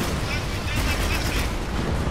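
Inside the Spec Ops: The Line video game, an explosion gives a dense, noisy, roaring blast that stays loud and fairly even for about two seconds.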